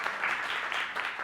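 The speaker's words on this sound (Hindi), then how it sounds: "एक बार मोहित सर के लिए तालियां।" An audience at a talent show applauds after a performance, a brief burst of close, steady clapping with no speech.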